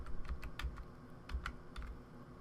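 Cursor keys on a computer keyboard are tapped repeatedly in short irregular bursts, light plastic clicks up close over a low background rumble, with no speech.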